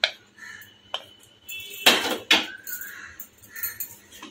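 A metal pot of ghee rice with cashews, raisins and fried onion is shaken to mix, giving several sharp clanks and rattling scrapes of metal, loud and close with brief pauses between jolts.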